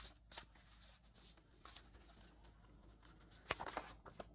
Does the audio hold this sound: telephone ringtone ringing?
no